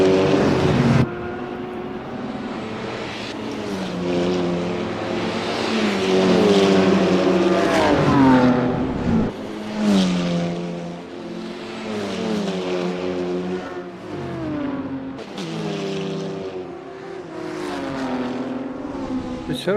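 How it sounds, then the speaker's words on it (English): BMW GT3 race cars battle on track in an NLS endurance race, engines wailing and rising through the gears, pitch sweeping up and dropping on shifts, loud and sustained with a commentator talking over them. "The cars are going for a very good fight. Oh, we have even a fight behind the two BMWs are fighting."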